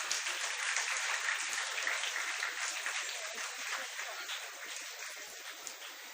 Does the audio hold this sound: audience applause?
yes